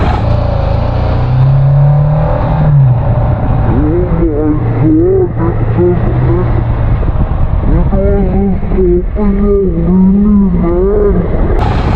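A BMW G 310 motorcycle accelerates hard, its engine note rising through the revs, dropping at a gear change and climbing again, loud and close, with a rider's voice heard over the engine.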